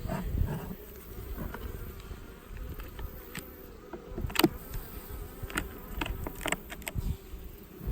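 Honey bees swarm and buzz at an open hive beside a lake in dry late-September South Alabama, a dense near drone broken by scattered clicks and one sharp knock of frames being handled.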